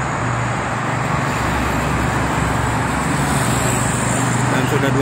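Busy morning flow on the Jakarta-Cikampek toll road with buses running: steady, loud wash of passing cars and heavier engines humming low, with someone talking on top throughout.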